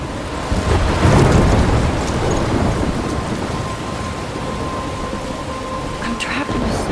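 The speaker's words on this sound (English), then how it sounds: "I'm trapped in a storm?" Heavy thunderstorm in the Life is Strange game: dense, loud rain roars continuously while a deep thunder rumble swells early on, with a few brighter crackles near the end.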